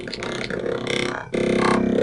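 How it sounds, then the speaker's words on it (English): Synthetic Geth sound effect from the video game Mass Effect 1, a dense, granular, clicky electronic texture with burbling, grunt-like tones, continuous for about two seconds and growing louder and fuller partway through. "This is the original Geth noise that we had used on"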